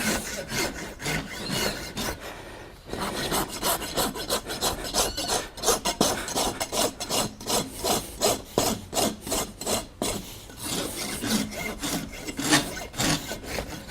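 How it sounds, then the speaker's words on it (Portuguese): A farrier's rasp files the wall of a horse's hoof in steady, rhythmic back-and-forth strokes, close and continuous, with a short pause early on. "a grosa para poder deixar a parede do casco mais reta"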